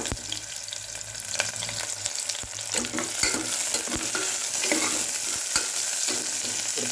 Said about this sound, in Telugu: ఆనియన్స్ వేసుకున్నాను అది కొంచెం వేగిన తర్వాత